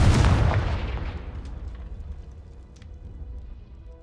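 A Confringo blasting spell explodes in Hogwarts Legacy, a loud booming burst up front that rolls away into a long, fading low rumble with a few faint crackles at the tail.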